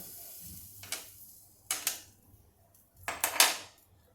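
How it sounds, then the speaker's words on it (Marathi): A metal lid set on a cooking pot over a low gas flame, three bright clattering metallic contacts spaced about a second apart, each a quick double clink, close and alone against a faint background hum. "आता याच्यावर मी झाकण ठेवते थोडा वेळ"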